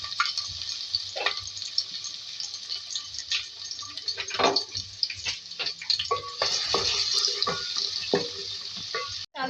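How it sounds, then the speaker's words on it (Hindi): Two medium onions frying in hot oil in a pan, a steady close sizzle broken by scrapes and stirring clatter. "2 मीडियम साइज़ की प्याज को फ्राई करेंगे"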